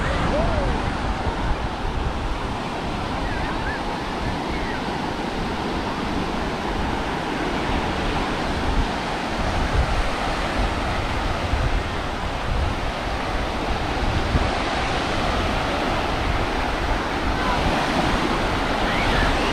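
Ocean surf at Hapuna Beach on Hawaii's Big Island rolls in as a continuous, fairly loud wash of breaking waves, with faint voices from a crowded beach mixed in.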